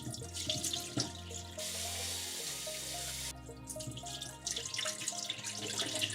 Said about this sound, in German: Den Reis ein paar Mal mit Wasser abspülen.